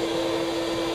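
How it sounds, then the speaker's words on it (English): A bee vacuum runs during a bee hive removal from a bay window, giving a steady, continuous motor hum with an even drone throughout. "We got Mr. Bruce now getting him experience on the vacuum"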